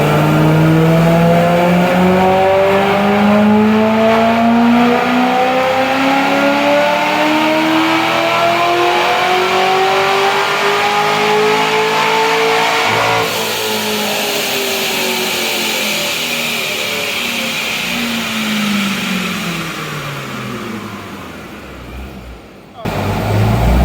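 Supercharged base-model C6 Corvette engine revving hard through a long rising pull with tire spin, loud and close, then dropping and settling before fading near the end.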